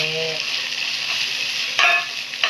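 Garlic and onion with ginger sautéing in oil for a vegetarian biryani, a steady close hiss of frying with a couple of brief stirring scrapes near the end, no talking.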